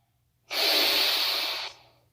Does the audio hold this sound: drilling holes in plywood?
no